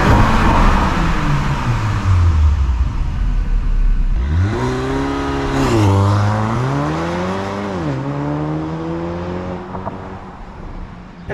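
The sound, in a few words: Porsche Macan engine revving to red line while parked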